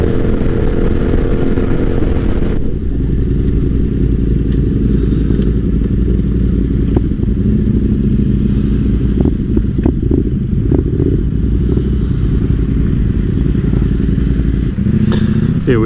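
A Yamaha Tenere T7 motorcycle without a quick shifter is ridden on a sportsbike rideout, its engine a loud, continuous raw drone with heavy wind rush, occasional clunks and rattles and a shift in tone near the start.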